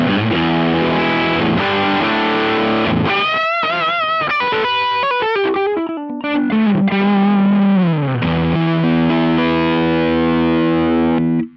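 A heavily distorted electric guitar with P90 pickups, through a maxed Mozztronics HA-2 headphone amp, plays loud sustained chords and sliding, bending notes, with a thick saturated buzz and no pauses.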